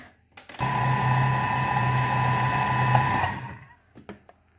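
A stand mixer runs steadily at speed 5, blending tart dough ingredients for mini blackberry tartlets with a lemon cream; a loud continuous motor whir with a tonal hum lasts about three seconds, then stops.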